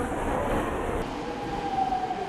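A subway train pulls into a Seoul metro station with a loud rushing roar and a rising high whine as it slows, heard up close.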